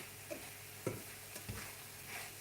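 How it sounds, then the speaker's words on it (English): Mushrooms stir-fry in a pan over raised heat, a soft low sizzle with a few light knocks and scrapes of stirring, fairly quiet and without talk. "I'm just going to stir fry this for just a minute or 2"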